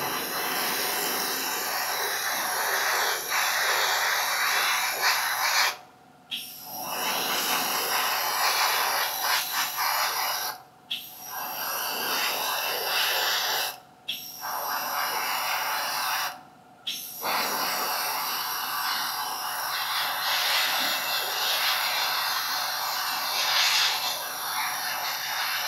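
Airbrush hissing paint onto a 1/100 Zvezda Pz.38(t) tank model: a continuous close, airy spray broken by a few brief pauses, with no voices over it.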